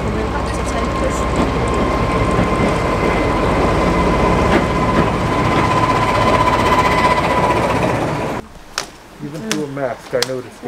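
A train engine approaches a station, a loud continuous rumble with a steady whine and sharp clanks that cuts off abruptly near the end, followed by a person talking.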